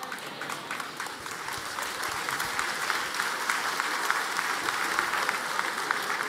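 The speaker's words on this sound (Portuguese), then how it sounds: "foram eles que começaram as palmas" Church audience applauding during a talk on family and relationships, continuous dense clapping from a crowd at moderate distance, steady for several seconds.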